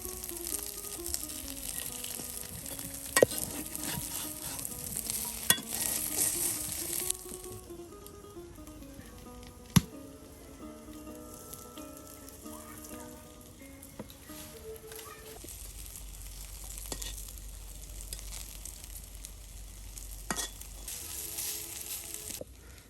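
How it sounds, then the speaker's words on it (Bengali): Mung dal fritters frying in a small amount of oil, a soft steady sizzle with faint crackles and occasional sharp clicks of utensils, fairly quiet and close, with light background sounds and no clear talk. "অল্প পরিমাণ তেল দিয়ে কিন্তু দেখুন কত সুন্দর মজাদার বড়া তৈরি করা হলো।"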